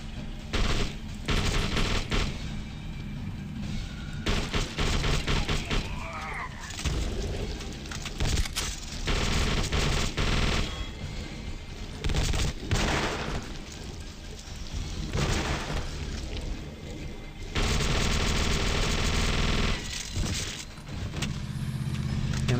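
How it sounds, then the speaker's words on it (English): Dense, sustained machine-gun fire rattles through a fight in the video game The Suffering: Ties That Bind, loud bursts running almost continuously with brief lulls between them. "I'm unloading clips of ammo."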